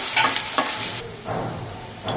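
Chopped onions fry in oil until reddish-brown with a continuous close sizzle, broken by a few scraping stirs of a spatula.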